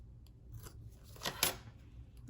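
Scissors snip through a planner sticker up close, quiet and quick, with a couple of small crisp cuts and one sharper closing snip near the middle.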